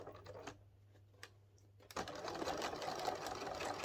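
Sewing machine stitching a round boxed cushion, locking the stitch: a few faint taps and pauses, then a close, steady mechanical whirr of continuous stitching taking over.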